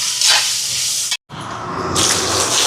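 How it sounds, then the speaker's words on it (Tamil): Water is poured from a vessel into a pan of frying onions, fennel, curry leaves, dried and green chillies and garlic, producing a loud hissing splash that cuts off briefly, then resumes. "கொஞ்சமாக தண்ணி ஊற்றி விடுவோம்."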